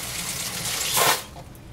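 Sink faucet runs water in a short steady rush that swells briefly and then cuts off, leaving a faint hiss.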